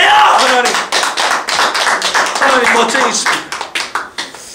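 A congregation claps in praise of God at a Korean church service, a rapid patter of hand claps running under a preacher's voice and ending in a few separate, louder claps.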